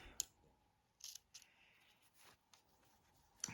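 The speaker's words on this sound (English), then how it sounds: "I could use a better pair of scissors instead of these snips, but there you go, it does the job." Small snips cut fabric for a quilt block, giving several faint, crisp snipping clicks spaced irregularly across a quiet room, close but soft with no talking.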